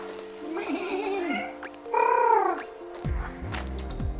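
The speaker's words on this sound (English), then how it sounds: "You're trilling your purrs?" A domestic cat, a female kept indoors, gives drawn-out meows and rising trills, close and fairly loud, in a few separate calls with short gaps, and a low rumble enters near the end.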